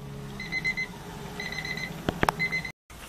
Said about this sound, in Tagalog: tumunog na po yung ating timer ng 5 minutes